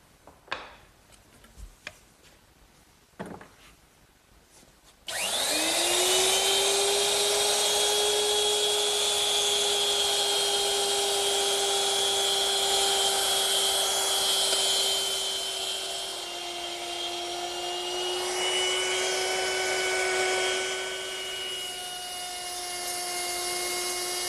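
A router with a round-nose bit spins up after a few light knocks and then cuts wood in a sustained loud whine for about twenty seconds, its pitch dropping slightly under load during the passes.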